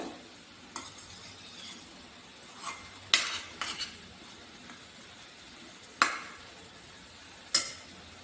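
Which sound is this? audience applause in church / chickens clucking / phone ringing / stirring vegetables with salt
stirring vegetables with salt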